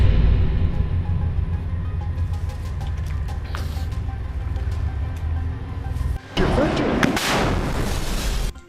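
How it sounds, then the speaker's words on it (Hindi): Combat footage of fighters firing rockets at Israeli tanks from ruined buildings in Gaza: continuous loud rumbling gunfire and blasts, swelling into a harsher burst near the end. "अल कासिम के लड़ाके खंडहर पड़ी इमारतों में छिपकर सामने से आ रहे इजरायली टैंकों पर रॉकेट से वार करते हैं।"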